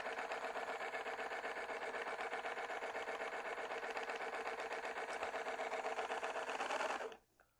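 An EEW Mini electric spinning wheel draws in and twists yarn, giving a steady, fast mechanical whir with a fine rapid pulse that runs unbroken and fairly close for about seven seconds before stopping abruptly.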